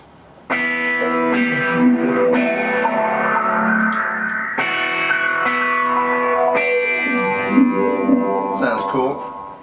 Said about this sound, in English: I've got a light auto wah, or a decent auto wah on it, just to give it a more expressive sound.